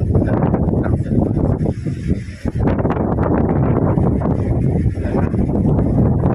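Strong typhoon wind sweeps across Catanduanes, roaring steadily and buffeting the microphone with a loud, dense rush that barely lets up, with a brief voice faintly mixed in.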